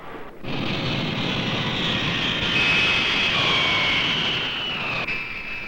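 Steady, loud roar of airplane engines, a continuous broadband drone with a faint high whine, sustained throughout without pauses.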